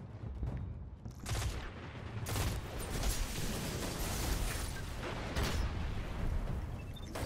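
Golden gun shots in a zone control shooter game, with scattered sharp cracks and bursts over dense, steady battle noise for several seconds.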